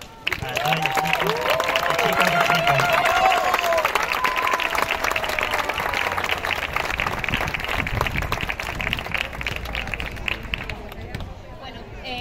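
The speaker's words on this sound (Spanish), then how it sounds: "Un aplauso para" Audience applause after a social circus troupe's show at a neighbourhood street festival in Barcelona, a dense, loud wash of clapping and crowd noise that holds steady for most of the stretch before thinning out at the end, with tonal sounds briefly over it early on.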